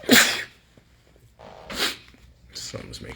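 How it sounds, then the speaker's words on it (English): A man's loud, close sneeze bursts out at the start, followed by quieter breathy vocal sounds and a second, fainter sneezy exhale. "Something's making me sneeze."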